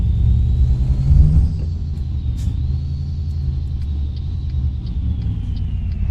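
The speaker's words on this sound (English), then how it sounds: "It really does feel like an old school truck. Listen to that engine too." A MAZ 6422 truck in Euro Truck Simulator 2 rumbles with a deep, old-school diesel drone, loud and steady throughout, swelling slightly early on before settling into a constant low growl, with no talk.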